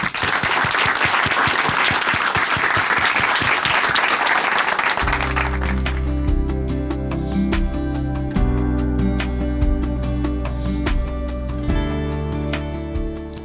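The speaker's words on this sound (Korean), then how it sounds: "박수로 모시겠습니다." A church congregation in Chuncheon, South Korea, bursts into dense, sustained applause for about five seconds; steady music then takes over for the rest.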